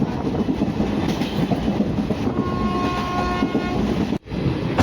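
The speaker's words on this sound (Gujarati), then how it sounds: "આપણી ટ્રેન નવાગઢથી ડિપાર્ટ થઈ ગઈ હતી ને ભાદર નદી આવી ગઈ છે" An intercity train rumbles and clatters steadily past the Bhadar river, loud and close, with a brief tonal horn-like note partway through before a sharp drop near the end.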